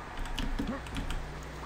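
Computer keyboard keys clatter in a quick cluster of close, crisp presses, including an F6 quick-load tap during a Serious Sam session, over a steady game hum.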